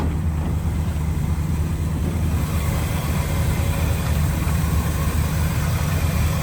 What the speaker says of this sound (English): Idling nice and smooth.